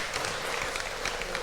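Studio audience applause on a Punjabi television chat show, a dense wash of many hands clapping that holds steady and fairly loud for the whole moment, with no voices over it.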